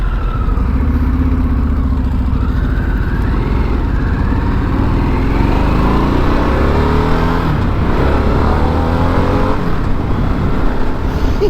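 A 2022 Harley-Davidson Sportster S rumbles through town, its engine loud and close with rising and falling revs as it shifts and accelerates, with wind noise and no talking.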